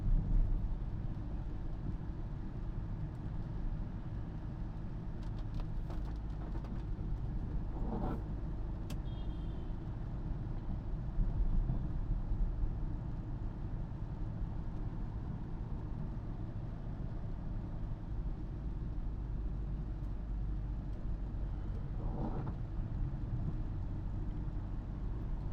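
A car drives through rain in Tambaram, Chennai, at about 30 to 40 km/h in third gear, giving a steady low engine and road drone with a wash of rain noise throughout and no talk.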